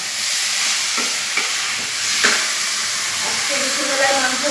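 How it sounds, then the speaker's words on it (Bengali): Chicken meat frying in a pan with panch phoron, green chillies and bay leaves, a loud steady sizzle with stirring scrapes throughout, and no talk. "রান্না করছি মাংস, পাঁচফোড়ন, কাঁচা লঙ্কা, তেজপাতা দিয়ে দিলাম মাংস"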